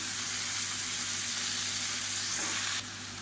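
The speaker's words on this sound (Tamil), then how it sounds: "இப்போ கத்திரிக்காயும் உருளைக்கிழங்கும் சேர்த்து நல்லா வதக்கியாச்சு" Steady, loud sizzle of eggplant and potato pieces sautéing in a pan for a South Indian lunch, a continuous hiss that drops off abruptly near the end.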